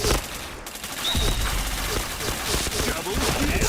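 Rapid bursts of video-game gunfire crackle through a dense, loud mix, with a voice partly underneath the shots.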